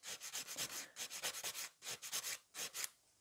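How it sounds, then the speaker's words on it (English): A nail file rasps across an acrylic nail being shaped into a coffin shape, quick rhythmic strokes in short bursts with brief pauses, close and fairly quiet, no talking. "I need to file it to the top in this direction for a nice coffin shape"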